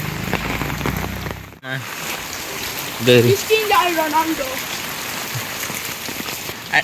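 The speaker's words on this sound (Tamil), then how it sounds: "மழை அண்ணே ராத்திரிலேருந்து விடாமல் பெஞ்சிட்டு இருக்கு மழை." Heavy, steady rain pours down after falling all night, a dense close hiss of drops across the whole stretch, with voices talking over it near a village pond and temple.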